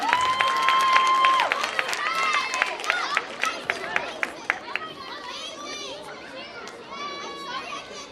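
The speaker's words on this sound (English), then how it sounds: "Big round of applause for them." Applause and crowd noise at a Hindu temple celebration, with scattered claps rising under lively children's voices and chatter, some whistle-like tones early on, moderately loud and busy.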